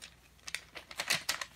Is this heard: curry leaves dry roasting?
no